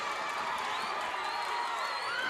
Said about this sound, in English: Crowd cheering him.